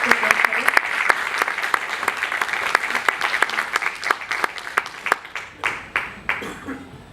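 Seminar attendees applaud the project team, many hands clapping loudly at first before thinning into a few scattered, distinct claps that fade out toward the end.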